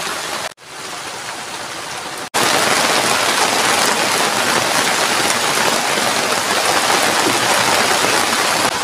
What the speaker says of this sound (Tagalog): Ang lakas ng ulan mga birds